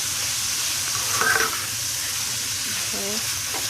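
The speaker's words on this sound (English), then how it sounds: "I'm just going to stir it in real well" Beef base stirred into a simmering pot of Cuban oxtail stew, a steady sizzling hiss with occasional scrapes of the spoon, and faint voices in the background.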